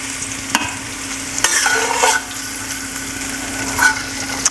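Shrimp fry in hot oil for a stir-fry, giving a loud, steady, close sizzle throughout, with a few brief clatters as the pieces are flipped and stirred.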